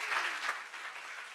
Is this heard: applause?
yes